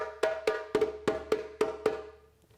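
Seven sharp djembe slaps sound the call signal that starts the West African Sinte rhythm, struck in a quick, evenly spaced series with a bright ringing tone, close and clear in an otherwise quiet room, then the last stroke dies away.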